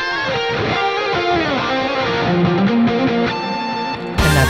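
Layered electric guitar solo with a harmony part doubled an octave higher, bright sustained melodic lines carrying steadily throughout, ending with a sudden wash of noise.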